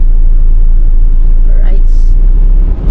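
A Toyota Innova cruises along a highway, giving a loud, steady low engine and road rumble from inside the cabin, with a brief high tone near the end.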